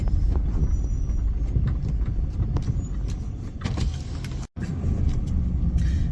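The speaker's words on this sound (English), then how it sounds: "Let me let this car pass." A car passes by on a road, a steady broadband whoosh that is loud and close throughout, with a brief dropout near the end and no voices over it.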